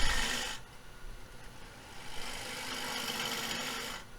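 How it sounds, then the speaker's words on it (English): A lathe tool cuts steadily into a spinning natural-edge cedar bowl, giving a continuous close rasping, shaving hiss that dips briefly at the start and then carries on to the end. "You just let the tool cut to the bottom, and you see they got really nice fine shavings"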